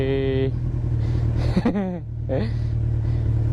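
A heavy motorcycle engine idles with a low steady rumble, then revs in a brief surge and settles back. The exhaust sounds near, and a voice speaks over it at first.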